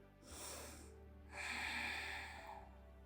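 Two deep, audible breaths drawn through the nose during a vinyasa flow yoga session, a short one then a longer, fuller airy inhale, close and soft with no talking.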